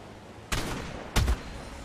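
A shotgun fires twice in the survival video game ARK: Fjordur. The two close, booming blasts come about half a second apart and sound fairly quiet overall.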